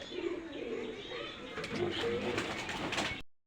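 Soft pigeon cooing close by, with low murmuring calls over faint background voices and chatter, ending abruptly.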